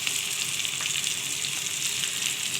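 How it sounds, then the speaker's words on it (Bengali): Eggplant and mixed vegetables fry in a wok with a dense, even sizzle and occasional stirring crackle, loud and close with no one speaking. "এই সবজিটা কিন্তু খুব ভালো করে ভেজে নিয়ে করতে হবে।"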